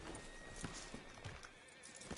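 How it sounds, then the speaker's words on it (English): A horse in the Red Dead video game clops along with scattered faint hoof hits and a short whinny, low and somewhat muffled against steady background hiss. "Can't you control that damn horse?"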